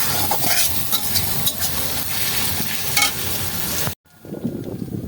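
Meat and spices fry and get stirred in a pot over a wood fire outdoors at a village night feast, a loud steady sizzle with scraping stir strokes throughout, cutting out abruptly near the end before a quieter bubbling resumes.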